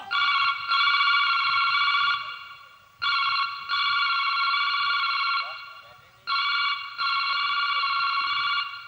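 A telephone rings in long repeated electronic bursts, three rings with short gaps between them, loud and close, with faint background noise beneath.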